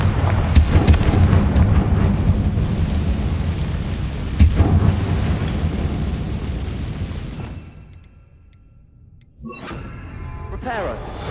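A Confringo blasting spell in Hogwarts Legacy sets off a heavy, rumbling explosion that rolls on for several seconds and slowly fades. A short quiet follows, then more crackling game noise, with a voice heard in the scene.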